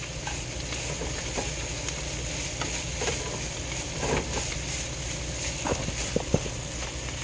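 Seasoned ground beef frying in a pan, a steady low sizzle and hiss running throughout with a few faint scrapes and clicks of stirring.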